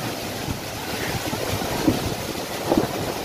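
A waterfall in Indonesia roars steadily under strong wind, a dense broadband rush with buffeting gusts against the microphone and a couple of brief thumps.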